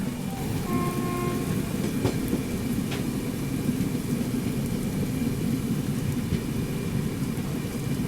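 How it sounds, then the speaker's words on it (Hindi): Heavy rain seen from a first-class compartment of the Trivandrum Rajdhani train gives a steady, dense rumbling wash of rain and train noise. It stays constant and fairly loud throughout, with no talking. "वैसे अगर देखा जाए तो बहुत बारिश हो रही है"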